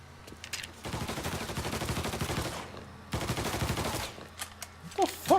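Automatic weapons fire in two long, rapid bursts during a Mafia III shootout. The gunfire is loud and close, with scattered single shots and clatter before, between and after the bursts.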